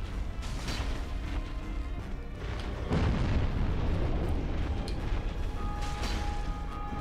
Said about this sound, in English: Will you just fight me instead of exploding?